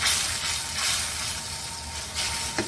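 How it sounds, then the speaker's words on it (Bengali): Spices such as ground coriander, cumin and chili powder sautéing in a pan for a Bengali curry, giving a continuous loud sizzling hiss that swells and eases slightly throughout. "মশলাটা আমি আবার কষাবো।"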